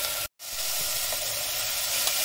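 Blueberries and brown sugar cook in a pan with a steady, close sizzling hiss that drops out for a moment and then carries on evenly.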